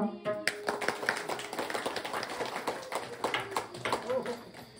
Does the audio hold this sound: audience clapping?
yes